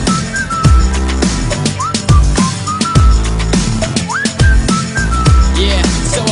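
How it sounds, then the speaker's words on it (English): Melodic whistling carries a song's tune over a loud beat with deep bass thumps, with short pitched slides and repeated notes throughout. "so I whistled at her"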